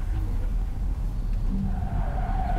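A car on winter tires slides sideways on a lap-timing run, giving a brief skid and tire scrub over a steady loud engine drone, close by.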